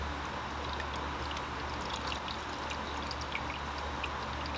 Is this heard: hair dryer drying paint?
no